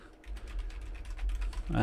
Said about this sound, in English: Tapping on the keys.